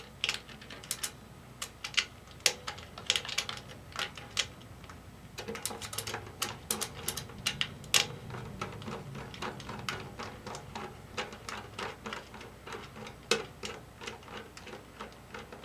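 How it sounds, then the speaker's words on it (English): Screws being driven into a Deering Goodtime banjo: a quiet, close run of sharp ticks and clicks in uneven bursts, with short pauses between them and no talking. "I get all my screws in. Get them in snug."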